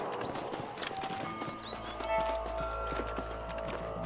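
Horses clip-clop steadily on the ground in the Western video game Red Dead Redemption, a dense run of hoof beats over a continuous low rumble and ambient outdoor tones, with no talking.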